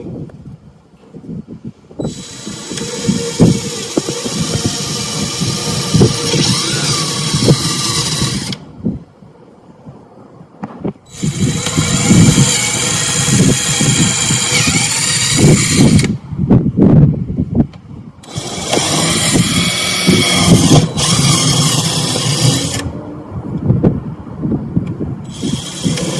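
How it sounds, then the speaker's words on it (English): A drill bores bolt holes for a table being added to a boat, making loud, close whirring runs in three long bursts separated by short quiet gaps. "We're going to drill the holes first."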